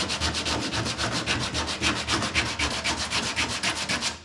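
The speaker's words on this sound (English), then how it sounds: "when you're sanding, you're not just sanding like that." Car body panel sanded by hand, a steady rapid back-and-forth rasp with even strokes, close and loud throughout with no speech.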